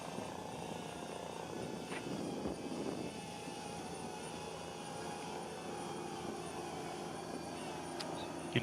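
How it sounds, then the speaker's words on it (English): Aircraft drones hum steadily overhead above a desert off-road rally stage, a continuous droning engine tone hanging over the scene with no talk. "You can hear the drones humming above it."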